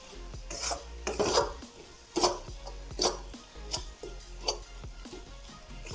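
Coconut and sugar mixture being stirred and scraped from the bottom of a pan, giving scattered scraping strokes in an irregular rhythm with a faint sizzle, close and fairly quiet.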